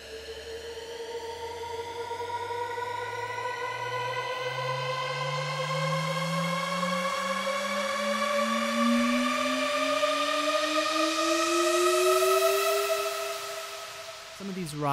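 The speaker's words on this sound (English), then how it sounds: "Looks like I have 3 different risers and some white noise." EDM sample-pack risers, with a bright harmonic synth tone gliding steadily upward for about fourteen seconds while a white-noise sweep swells toward the end before cutting off abruptly.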